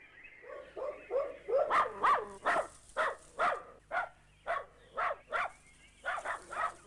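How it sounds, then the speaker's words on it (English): Dogs bark outside a house in a Kenyan garden as they are let out. Loud, close, repeated barks and yelps come in uneven bursts, some rapid and overlapping, with brief pauses between. "When the dogs are let out, the wild occupants retreat back to the bush."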